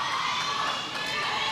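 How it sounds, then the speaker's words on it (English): A crowd cheers and shouts loudly and without a break at a girls volleyball championship, high excited voices and whoops filling the gym at close range. "the crowd is electric right now"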